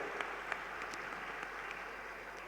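An audience claps in a pandal at an outdoor cultural programme, faint and somewhat distant, a thin steady patter of many hands with a few sharper individual claps standing out.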